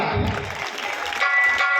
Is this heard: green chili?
no